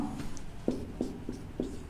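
Pen or chalk writing a name in English letters during a Hindi-language class, a few short scratchy strokes in an uneven rhythm over a low background hum.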